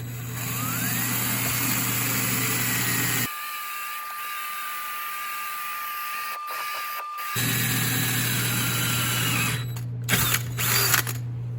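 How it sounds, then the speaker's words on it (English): A power drill bores a hole through the cast iron casing of a bench grinder, a steady whirring drone that drops away midway and then resumes, with a few sharp knocks near the end. "Drill a hole."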